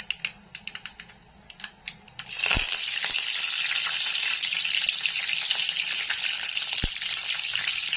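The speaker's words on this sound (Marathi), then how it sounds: "जेरी मोहरी तडतडायला लागली" Mustard and cumin seeds crackle in hot oil for a tempering, starting with a few sharp pops and then settling into a loud, dense, continuous sizzle up close.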